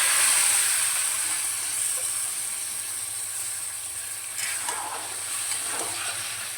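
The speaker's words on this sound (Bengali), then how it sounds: "মশলা ভালো করে কষিয়ে নিয়েছি, রাখা লাউটা দিয়ে দিচ্ছি" Spice paste fries in a pan with chopped bottle gourd for lau ghonto, giving a steady, close hissing sizzle with a few faint scrapes toward the end and no voices.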